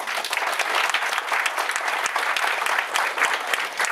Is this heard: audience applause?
yes